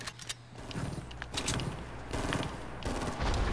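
Rapid automatic gunfire in the Fortnite video game plays in dense, sustained bursts, loud and near, with mechanical clatter between the volleys.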